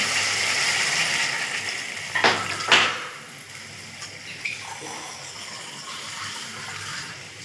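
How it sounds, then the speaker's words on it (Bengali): Water is poured into a pan of bottle gourd and prawn curry, a short gushing splash near the start that settles into a quieter simmering hiss, close and without talking. "জলটা দিয়ে দিলাম"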